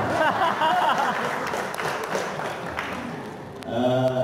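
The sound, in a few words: audience applause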